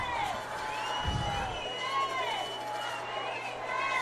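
A crowd in the stands at a varsity high school football game cheers and shouts steadily at a moderate distance, with raised voices rising and falling over a continuous roar.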